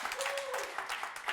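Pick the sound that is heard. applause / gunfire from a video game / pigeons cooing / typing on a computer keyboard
applause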